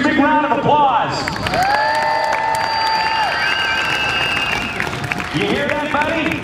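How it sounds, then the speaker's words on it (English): Crowd applause and cheering at an airshow-style event featuring a Mitsubishi A6M Zero, continuous clapping mixed with whistles and tonal sweeps, with voices over it. "Ladies and gentlemen, give Warren Peach a big round of applause."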